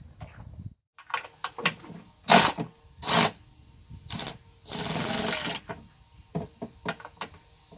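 Bursts from a 90-degree angle impact wrench in a car workshop on an E36 BMW with an M52 engine, several short loud rattling hits with a long run near the middle, close by and alone.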